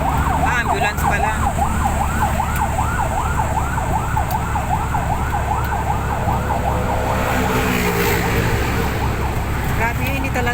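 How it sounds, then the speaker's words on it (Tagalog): A wailing ambulance siren sweeps up and down in a steady repeating cycle as it passes along a hot city street, loud over constant traffic rumble before fading near the end. "Ayan, wang-wang. Ambulance pala."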